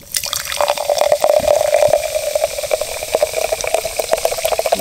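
Soda poured into a glass, a close, steady fizzing stream with bubbly crackle and rising fill tone lasting several seconds, with no talking.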